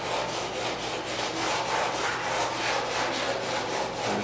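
Body filler on a 1972 Triumph GT6 car body is sanded by hand in close, rhythmic back-and-forth rasping strokes, several per second, steady throughout with no voices.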